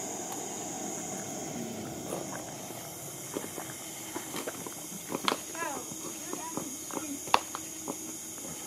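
A horse walks on a village road, its hooves giving sparse, irregular clops that grow more frequent toward the end. The steps are fairly faint against outdoor background noise, with a few sharper knocks.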